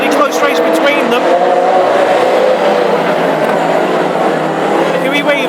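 Classic hot rod race cars roar past at close range during a heat at Hednesford, their engines loud and sustained with rising and falling pitch as they speed by, under continuous commentary.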